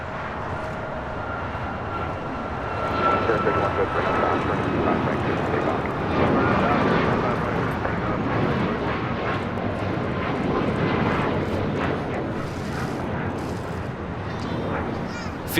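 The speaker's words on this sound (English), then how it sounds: "Fiji Airways Flight 810 coming up from Nandi, the A350-900 touching down here on the south side." Fiji Airways Airbus A350-900 touching down on the south side at LAX, a broad, loud jet roar that swells and holds through the landing with faint talk beneath.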